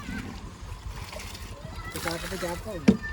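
Water is let out on a dairy farm and splashes and gushes close by, partly covered by people talking over it, with a sharper splash near the end.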